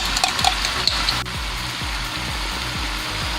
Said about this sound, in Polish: jeszcze chwilę musimy to smażyć, żeby ten koncentrat pomidorowy z tymi warzywami nam się podsmażył